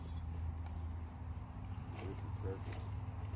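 Night insects or frogs keep up a steady high continuous trill outdoors, moderately loud and unbroken, with a few faint voiced sounds in the background.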